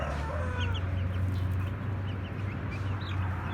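Several young chicks and chickens in a coop cluck softly and steadily over a low constant hum, with occasional higher chirps scattered through.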